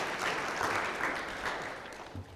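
Audience applause at a restorative justice summit, a steady wash of clapping from a crowd that holds for the whole stretch and tails off slightly near the end.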